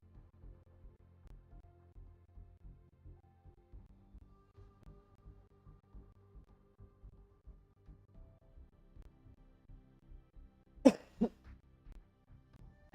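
Two short, sharp coughs close by, following a long stretch of quiet low background noise.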